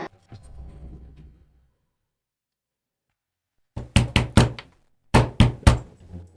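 Two bursts of hard knocking on a door that will not open, three or four sharp raps each, loud and close, after a quiet pause; a brief murmur of voice comes first.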